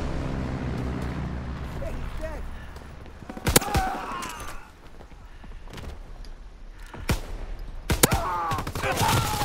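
Pistol shots ring out during a Call of Duty WWII match, with a few sharp, loud cracks spaced seconds apart over a busy game soundscape of background noise and effects.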